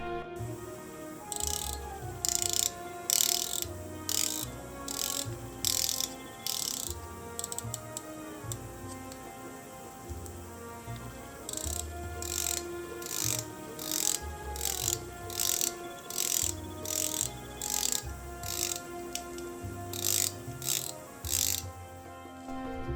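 The rotating ratchet bezel of a Marloe Morar 310 dive watch turns in rapid bursts of crisp clicks, close and clear, with short pauses between runs of turning.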